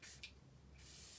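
A Glow Recipe Watermelon Glow Ultra Fine Mist bottle gives two soft, quick hissing sprays, a short puff followed by a longer one, quiet and close with no talking.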